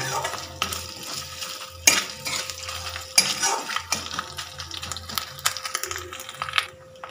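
Asafoetida and grated coconut fry in oil in a pan for chana dal while a utensil stirs and scrapes against the metal, with a low steady sizzle under intermittent clinks and scrapes.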